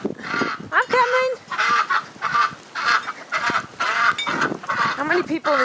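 Pet ducks calling out in a blizzard, a run of loud, close honking quacks with harsh nasal calls repeating in bursts, mixed with a person's voice calling to them.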